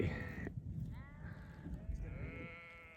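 Sheep bleat a few times at a moderate distance, the wavering calls fairly quiet over low background rumble.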